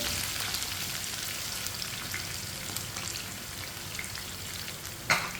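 Chopped ridge gourd (tori) frying in a hot pan, a continuous dense sizzle and crackle throughout, with one brief louder clatter near the end and no talking.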